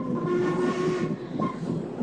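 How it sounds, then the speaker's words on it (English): A train rumbles and clatters with a sustained whistle-like tone over it, loud and close for a couple of seconds with no voices. "We could take the sea train."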